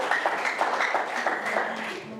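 A church congregation applauds during an online Sunday service sermon, a steady, moderate patter of many hands clapping that fills the room evenly and fades slightly toward the end.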